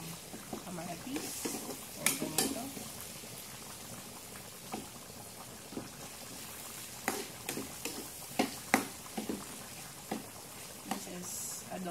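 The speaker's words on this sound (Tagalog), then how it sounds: "Ginigisa lang natin yan" Tomatoes sautéing in a pan for squid adobo give a soft, steady bubbling sizzle with occasional clinks and scrapes of stirring, while a voice talks over the cooking.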